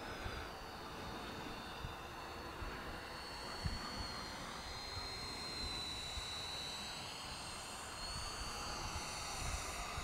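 A 64mm FMS Dassault Rafale RC electric ducted-fan jet with an 11-blade fan on 4S power lands, its steady high-pitched whine and airy rush holding at a distance throughout, with no talk.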